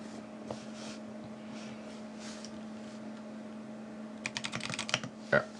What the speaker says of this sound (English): Let's do one more typing test before I give my initial opinions on these switches.